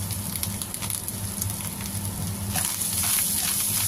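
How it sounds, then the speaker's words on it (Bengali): Bitter gourd and fish roe fry in a pan with a steady, close sizzle that runs without a break and grows a little brighter near the end. "ডিম করলা দুটাই সুন্দর ভাজা ঝরঝরে হয়ে গিয়েছে।"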